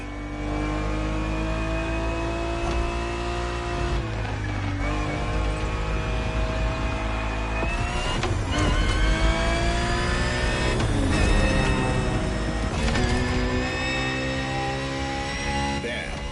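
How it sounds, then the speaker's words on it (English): A Ferrari 365 GTB4 in The Crew Motorfest racing game roars loud and steady, revving up and easing off through several gear changes with no talk over it. "The Ferrari 365 GTB4 is the perfect vehicle for you to experience Ferrari racing as it felt back in the 70s."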